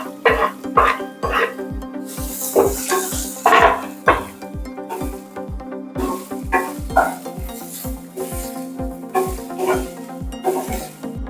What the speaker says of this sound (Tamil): 2 பச்சை மிளகாய், அரிஞ்சு வச்ச பெரிய வெங்காயத்தையும் போட்டுக்கலாம்.